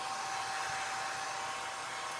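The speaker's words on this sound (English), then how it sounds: "I'm just going to get a hair dryer" A hair dryer blows steadily to dry a silk screen stencil, a close, constant whirring hiss with no change in pitch.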